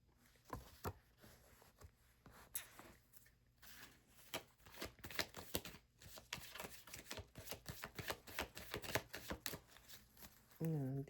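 Quick ruffling riffles of a deck of playing cards, repeated in bursts, close and fairly quiet, with a voice briefly in the background.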